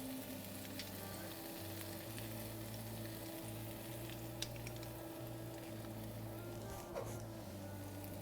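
Garlic frying in a pan toward golden brown, a steady close sizzle and crackle running without a break, with a low steady hum underneath.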